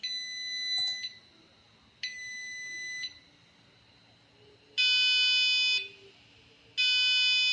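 An Arduino-driven piezo buzzer emits a steady, piercing 1000 Hz beep tone in two long bursts with a pause between, following two shorter higher-pitched tones.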